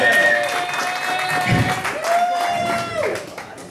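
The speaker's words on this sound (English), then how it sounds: "so can I have a cheer for Chris?" A crowd at a live rock gig at Ivory Blacks in Glasgow cheers and applauds for a new lead guitarist, steady clapping and whoops with voices mixed in.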